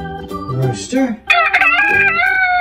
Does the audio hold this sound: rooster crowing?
yes